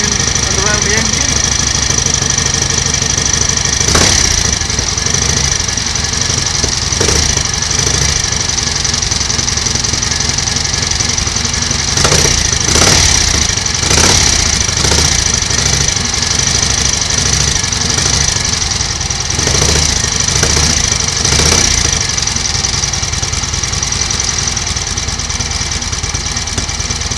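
A 1938 Matchless 990cc Model X motorcycle engine, running after several years laid up and smoking from the exhaust, idles steadily with a close, even drone broken by a few sharper thumps and knocks.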